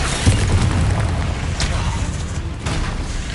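Booming blast from a fire-based blasting spell in a Harry Potter video game, one heavy low burst near the start followed by a dense rumbling, crackling wash that fills the rest of the moment.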